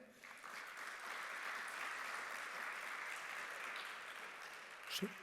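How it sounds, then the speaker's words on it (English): An audience gives sustained applause during conference closing remarks, a continuous, fairly distant wash of clapping, faint overall, with a couple of louder claps near the end. "Could you please give a round of applause for them?"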